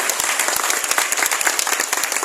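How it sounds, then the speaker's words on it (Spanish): Audience at a school graduation ceremony for the 2023 class in Chichica applauding, a dense run of many hands clapping, fairly loud and steady throughout. "fuertes aplausos"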